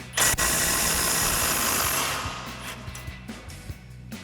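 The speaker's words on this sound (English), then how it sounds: "you're going to need a 27mm socket on an impact and a 30mm wrench" An impact wrench with a 27mm socket breaks loose a lower strut mounting bolt on a 2021-2025 Ford Bronco, giving one loud sustained hammering whir that fades into a string of quieter ratcheting clicks, close up.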